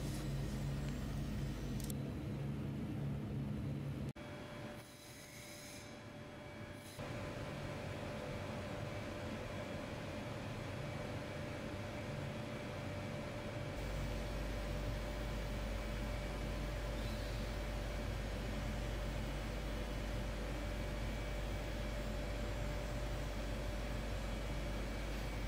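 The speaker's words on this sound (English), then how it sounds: "Now the nozzle will pass backwards and forwards in two axes until the correct mass and thickness of coating has been built up" A robotic spray nozzle coats an IR calibration plate with Vantablack in a test coating cell, producing a steady, low hiss of spray and machinery with a constant hum, and a short dip partway through.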